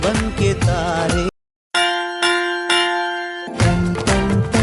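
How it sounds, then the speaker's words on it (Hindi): A school bell clangs several times in a row, ringing out bright metallic strikes that sit between bursts of music. "टन टन टन सुनो घंटी बजी स्कूल की"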